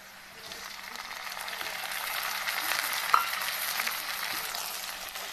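Tomatoes and coriander tipped into a hot kadhai over green chillies and onion, giving a steady moderate sizzle of frying with a brief clatter near the middle, no talking.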